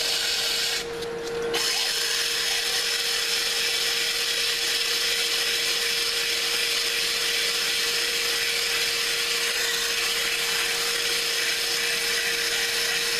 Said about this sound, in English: Keep the sandpaper moving.